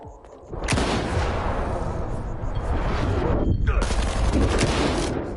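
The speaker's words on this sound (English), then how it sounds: "I'm getting shot at by enemies previously unknown again." Heavy enemy gunfire in STALKER 2 crackles in a dense, loud barrage that barely lets up across the whole stretch, with sharp cracks standing out near the start and again toward the end.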